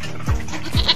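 Sheep bleating at a farm where animals are fed, two wavering calls close by within a second, over steady background noise.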